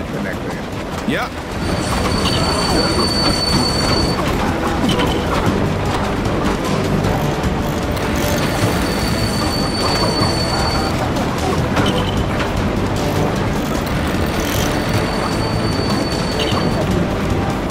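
A train running in The LEGO Movie Videogame keeps up a loud, steady rumble and rattle. High whines come and go in repeated bursts over the continuous rolling noise.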